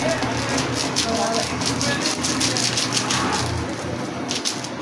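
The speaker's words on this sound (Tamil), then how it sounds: "மழைங்க, சரியான மழை பெய்யுது." Heavy rain falling steadily as a constant broad hiss and patter throughout, fairly loud and close, with faint background sounds mixed in.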